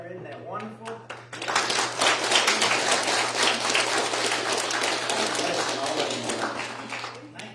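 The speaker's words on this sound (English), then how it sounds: "I just want to give you a hand of applause." A congregation applauds the mothers at a church Sunday school gathering, sustained clapping from many hands that swells after a second and holds steady, with a low constant hum beneath and a voice briefly heard near the start.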